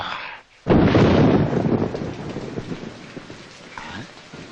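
A thunderstorm with rain at night in a 1999 Telugu film: a sudden heavy thunder crash booms in and rumbles on under a steady rain hiss, fading slowly.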